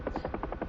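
Huey helicopter rotor in the DCS flight simulator, heard as a steady rhythmic whop-whop beating at an even pace, close and continuous with no voices over it.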